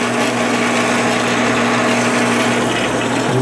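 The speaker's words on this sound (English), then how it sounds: "now as you're drilling" A power drill bores steadily with its bit lubricated in vegetable oil while building a homemade Gray-Hoverman TV antenna, a loud continuous whining hum with a steady low drone throughout, close and without talk.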